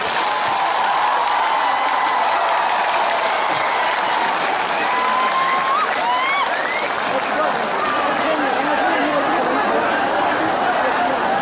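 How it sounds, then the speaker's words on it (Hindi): Sustained audience applause fills the space, with dense clapping and crowd chatter throughout, loud and continuous. "सबसे बड़ा ताली आपको होना चाहिए।"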